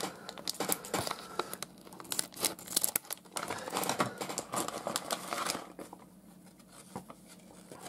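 Pack of 2024 professional baseball card chips being opened, close crinkling and tearing of the foil bag in quick bursts that fade to softer rustles near the end, with no talk.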